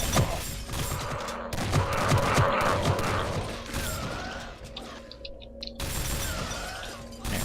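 Rapid icicle gun fire in the video game Gunrgirl 2 rattles in a dense, clattering burst with shattering crackles, then briefly thins before resuming, loud and continuous over busy game noise.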